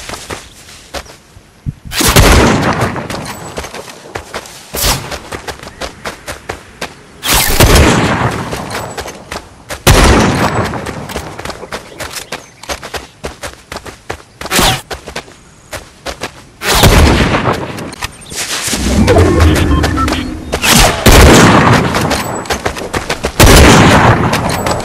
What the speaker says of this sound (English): Get shot because they're shooting at him.